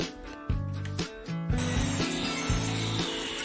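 Aluminium profile is cut to size for a bathroom mirror box door, giving a rasping, grinding saw sound in short bursts under steady background music.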